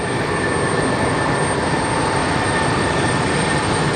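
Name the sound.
Airbus A320 taxiing across the runway at LGA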